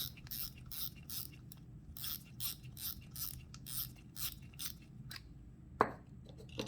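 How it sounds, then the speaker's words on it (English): A Daiwa Certate LT 4000D-C spinning reel is handled as its spool is removed, a quiet run of rapid ratcheting clicks in short bursts, then a single sharper click near the end. "And for that, we need to remove the spool."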